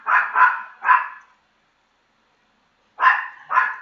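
A dog barks nearby in sharp bursts, three quick barks, a pause of silence, then two more, with no voices.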